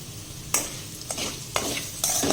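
Spiced potatoes for farali sabudana khichdi are stirred in a hot pan, with four distinct scraping strokes roughly half a second apart over a steady sizzle, heard close up and with no talking.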